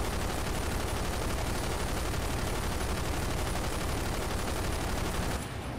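Dense, continuous gunfire in the Terrorist Takedown: Payback video game, a rapid unbroken machine-gun rattle at steady loudness that drops slightly at the end.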